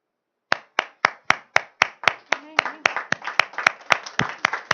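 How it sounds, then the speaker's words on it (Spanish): A church congregation claps in steady rhythmic unison, starting from silence with single sharp claps that build into a denser, fuller clapping with voices faintly underneath. "Un aplauso para el Señor"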